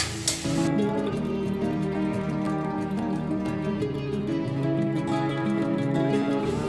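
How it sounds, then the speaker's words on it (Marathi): Chopped capsicum with turmeric and salt sizzles loudly in hot oil in a kadhai while being stirred, a dense, constant frying crackle close by with no talk. "आता चांगले मिक्स करून घ्यायचे आहे शिमला मिरची हळद मीठ तेलामध्ये"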